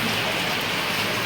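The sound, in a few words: rain falling during an outdoor shoot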